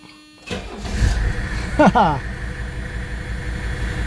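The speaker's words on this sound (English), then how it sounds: "Watch how easy this car fires up." A 1985 wagon's engine cranks and fires up, then settles into a steady idle, close by.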